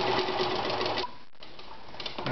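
A Veritas 8016/22 sewing machine stitches with a loud, close mechanical whir that cuts out partway and starts up again near the end.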